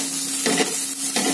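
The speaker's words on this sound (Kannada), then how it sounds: "ಈಗ ಅದಕ್ಕೆ ಜಿಂಜರ್ ಹಾಗೂ ಗಾರ್ಲಿಕ್ ಪೇಸ್ಟ್ ನ ಆಡ್ ಮಾಡ್ಕೊತಿದ್ದೀನಿ" Ginger garlic paste sizzles and fries with green chillies in a pan, a steady bright hiss with a few louder stirring scrapes, close and continuous with no talking.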